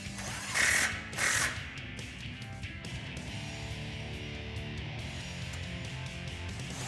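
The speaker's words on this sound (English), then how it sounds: "using a 14mm socket to tighten up our factory bolts" A 14mm socket ratchet tightens factory exhaust bolts on a 5.7L Toyota Tundra, with a few quick clicking pulls followed by faint continuous mechanical clicking under steady garage background noise, no talk.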